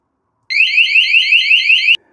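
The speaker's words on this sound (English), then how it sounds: "I'm going to start removing it slowly and show you how far it has to be away from it before it triggers the alarm." A tiny magnetic door/window alarm goes off when its magnet is pulled away, giving a loud, close, warbling electronic siren that sweeps rapidly up and down for about a second and a half before cutting off abruptly.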